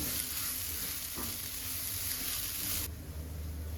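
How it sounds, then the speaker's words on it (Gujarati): Crushed green pea paste sizzles steadily in a pan over a low gas flame for green pea vada, a soft continuous fry with a faint stirring scrape partway through. "આ ટાઈમે ગેસની ફ્લેમ એકદમ ધીમી રાખી અને વટાણાની પેસ્ટને સારી રીતે સાંતળી લેશું"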